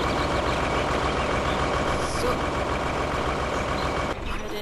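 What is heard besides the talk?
truck engine starting and running, video game Farming Simulator 2013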